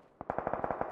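Rapid automatic gunfire in the PUBG battle royale video game: a quick burst of about eight evenly spaced shots lasting under a second, fairly loud, with no talk.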